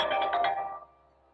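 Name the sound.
phone ringing during a talk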